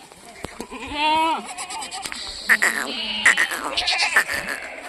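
Pregnant Kathiawadi goats bleat in a livestock pen or vehicle, with one drawn-out wavering bleat near the start followed by several shorter calls and rustling, fairly close and moderately loud.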